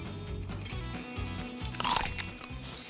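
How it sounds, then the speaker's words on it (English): A plastic prop apple bitten and chewed up close, giving repeated loud crunching and crackling bites in a steady chewing rhythm. "And then I get to eat the apple."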